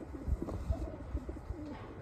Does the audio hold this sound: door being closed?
no